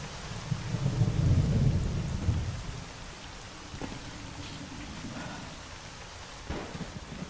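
In the game Stalker: Call of Pripyat with the Misery mod, a low rumble of thunder rolls early on over steady rainfall, followed by scattered faint knocks and drips.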